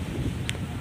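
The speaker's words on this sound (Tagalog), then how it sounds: "naririnig nyo, malakas ang hangin" Strong wind blows at an outdoor spot and buffets the microphone with a steady low rumble through the whole short stretch.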